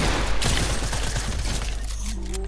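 Gunfire in a Fortnite built battle rattles off in a rapid, loud volley, with dense sharp shots and impacts over a constant noisy game background.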